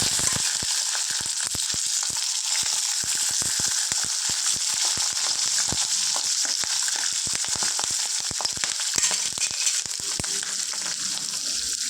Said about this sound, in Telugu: పచ్చిమిర్చి ఫ్రై అవ్వాలి